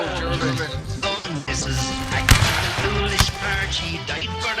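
Pistol shots crack out at a Civil War battle reenactment, North versus South with the 33rd Virginia, one sharp report standing out amid dense crowd noise and shouted commands from people talking nearby.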